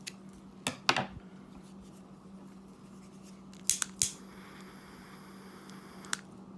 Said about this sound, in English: you just snip off your ends there